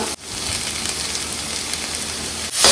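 Crushed ginger and garlic drop into a pan of shallots and onions frying for a Kerala-style mutton roast, setting off a loud, steady sizzle that runs alone for a couple of seconds before a brief clatter at the end.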